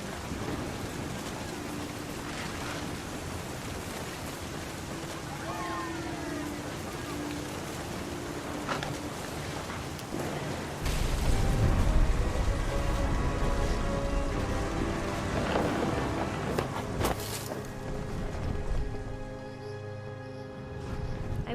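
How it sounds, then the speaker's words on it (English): A thunderstorm in the video game What Remains of Edith Finch: rain hisses steadily and a deep, rolling thunder rumble swells midway before fading back into the downpour, with no talking. "The thunder sounded much too close and full of angry power"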